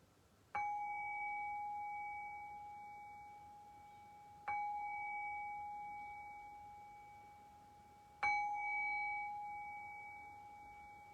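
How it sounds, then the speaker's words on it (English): A meditation bell struck three times at even intervals, each strike a clear ringing tone that lingers and slowly fades in a quiet room. "I'll cue that shift by ringing the bell 3 times."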